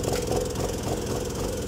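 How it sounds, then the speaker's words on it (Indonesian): A Honda PCX 160 scooter engine idles close by with an unstable, fluctuating idle. It gives a continuous rough, rattling drone that pulses unevenly. "Langsamnya naik turun."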